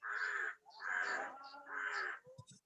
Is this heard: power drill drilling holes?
no